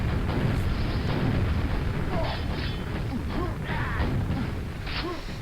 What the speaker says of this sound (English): I definitely rocket jumped up there too early